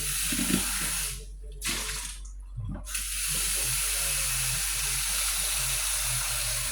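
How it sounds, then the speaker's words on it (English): Tap water running into a cooking pot while making fårikål, a steady close hiss and splash with a couple of brief pauses before the flow resumes and continues to the end. "the next thing is I have to put water"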